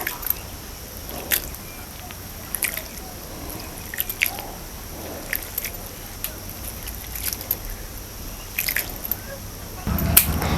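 Soaked poha being squeezed by hand to press the water out, with intermittent wet squishes and drips close by over a quiet background.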